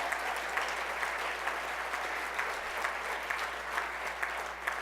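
An audience at an MLK breakfast keynote applauds in a steady, even wash of many hands clapping, fairly faint and distant, with no voices over it.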